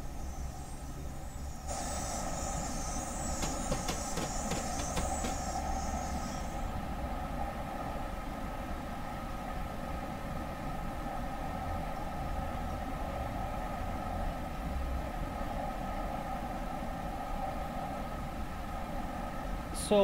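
A long train running at high speed on the line between Ludhiana and Ambala Cantonment, heard as a steady rumbling roar with a brief higher whine early on, while someone talks over it.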